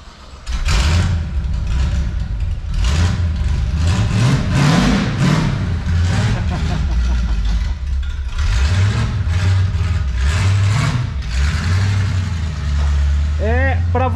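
A Chevrolet Opala V8 engine revving repeatedly, loud and close, with rising and falling pitch, under frequent speech from people nearby.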